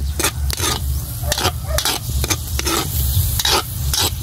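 Pansit bihon noodles being stirred with soy sauce in a pan during outdoor cooking, with repeated scraping strokes over a steady low sizzle, close and fairly loud.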